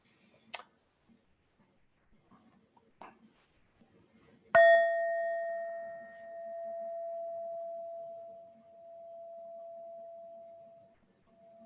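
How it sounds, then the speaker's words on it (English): Mindfulness bell struck once during a guided mindfulness exercise, sounding after a few faint clicks and ringing out in a long, clear, slowly fading tone in a quiet room. "This bell is the signal to stop and pay attention."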